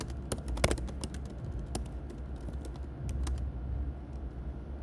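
Someone types on a computer keyboard, producing quick irregular clicks and taps, fairly faint and close, with no speech.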